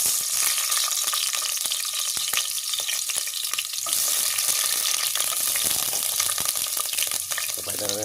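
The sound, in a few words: onion frying in hot cooking oil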